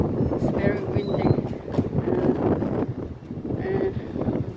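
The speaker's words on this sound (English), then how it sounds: "It's windy and snowing" Strong wind gusts outdoors during a snowfall and buffets the microphone with a steady, rough rush, while a person talks over it the whole time.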